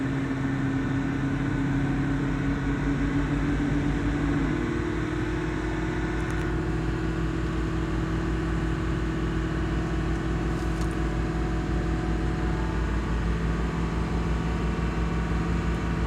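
A Ford Expedition engine runs steadily at about 1300 RPM, giving a continuous, even drone with a low hum that holds for the whole stretch, with no talking over it.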